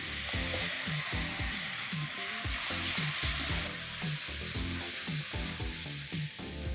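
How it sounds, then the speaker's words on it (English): A paste of ginger, garlic and green chilies frying and being stirred, a constant hissing sizzle running under rhythmic background music. "Time to add in paste of ginger, garlic and green chilies and mix this till the raw flavor goes away."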